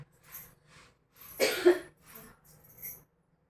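A few short, harsh coughs up close, a rough burst in the middle with quieter breathy coughs around it, then silence.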